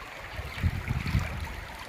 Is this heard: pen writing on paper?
no